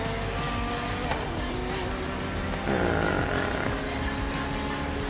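A Ferrari F40 in the racing game Forza Horizon 3 drives under continuous engine roar, with rising and shifting tones as it accelerates and gets louder midway.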